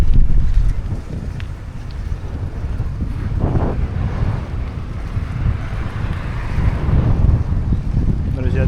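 Strong wind buffets the microphone outdoors, a loud continuous low rumble and roar with gusty swells throughout, and no clear talk heard.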